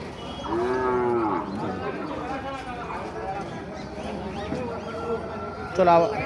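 Cattle mooing at a livestock market (animal haat) in Navaron, Jessore, with a long low moo near the start and further calls later, amid steady crowd chatter and voices throughout.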